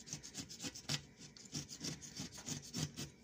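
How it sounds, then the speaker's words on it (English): A scraper blade grinds baked-on gunk off oven window glass after an oven fire, a series of close, quiet rasping strokes in a quick, uneven rhythm with no voices. "Just scrape the gunk off."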